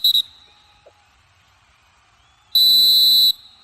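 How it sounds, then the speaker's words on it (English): Referee's final whistle at the end of a kabaddi match, a short double blast and then one long shrill sustained blow, loud and piercing over near silence. "I think that's the final whistle of the match."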